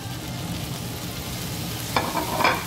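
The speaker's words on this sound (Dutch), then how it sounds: "Vervolgens gooi je de spek terug in de pan." Steady sizzling of bacon frying in a pan, with a couple of brief louder crackles or scrapes near the end.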